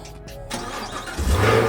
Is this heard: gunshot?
no